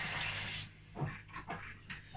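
Water pours into a cooking pot of honey beans with onions, a loud bright gush for about half a second, then a few softer sloshes and splashes as the stream stops.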